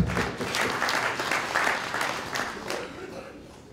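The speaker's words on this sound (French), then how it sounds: "je vous demande d'applaudir Richard." Audience applause at a forum in Bamako, a steady wash of many hands clapping at moderate distance, fairly soft and continuous throughout.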